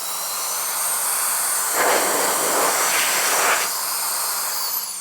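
A KiCA Jet Fan handheld fan whirs with a loud, steady high-pitched hiss and whine, surging in two stronger bursts before settling back to its steady rush.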